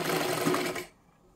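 A sewing machine stitches a blouse, a close, steady mechanical whir that runs loudly for most of a second and then stops, leaving near silence.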